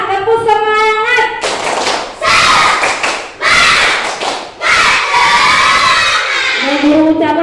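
Group of schoolchildren in a classroom clapping in unison and shouting a rhythmic spirit chant, loud and close, in several bursts separated by brief pauses, with an adult voice leading between bursts.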